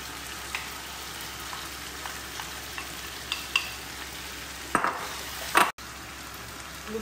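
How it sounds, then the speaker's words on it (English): Soft sizzling of a yogurt mixture frying in a pan for Nawabi biryani, with occasional scraping stirs and a couple of clinks near the end. "Look at the mixture I have put in frying pan."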